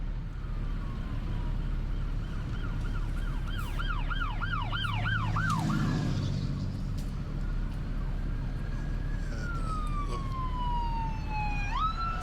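Emergency vehicle siren passing a work site near a fire station, wailing and yelping tones sweeping up and down, rising then fading as it drives by over road noise and a steady low hum.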